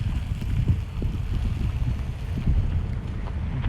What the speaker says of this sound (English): I do have to apologise because it is windy